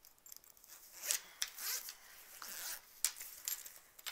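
Small zippers on a knitting kit bag pulled open in a few short quick rasps, close and fairly quiet, with light rustling of the bag between pulls.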